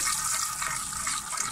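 Water is poured close up into a spiced potato filling for paratha, seasoned with salt, chilli and turmeric, making a steady splashing hiss that runs unbroken for about a second and a half.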